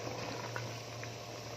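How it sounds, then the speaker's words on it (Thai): Water bubbling at a steady rolling boil in a pot over high heat for a Thai curry, close and continuous, with a low hum underneath and no talking. "เร่งไฟน้ำเดือดละ"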